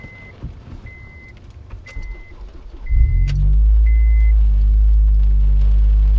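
A modified Honda engine cranks and fires up about halfway through, settling into a loud, deep, steady idle rumble; rain patters throughout with a few faint beeps before.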